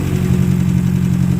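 A small car's freshly reinstalled engine runs at a steady idle, close and loud, with an even low rumble and no talking.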